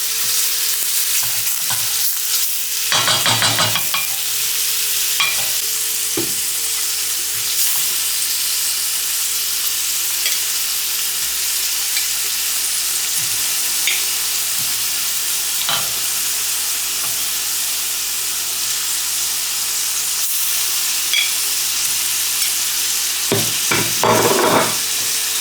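Cod cooks gently in a pan over lowered heat, giving a steady soft sizzle and hiss, with occasional louder bursts of spattering and a few utensil taps, no voices.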